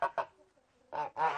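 A pair of geese with unusual curly plumage honk in a farmyard, with two quick honks followed by two longer, louder calls close by and no talk.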